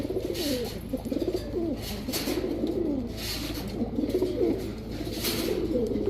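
A male and female pair of giribaz high-flyer pigeons coo repeatedly up close, their throaty, rolling calls coming in waves over a few seconds, with no speech.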